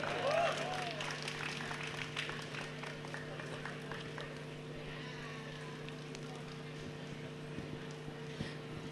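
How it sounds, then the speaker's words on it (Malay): An audience at a university academic advisors and students programme applauds in a steady, faint wash of clapping that lasts several seconds, set against a low electrical hum. "Bagi tepukan"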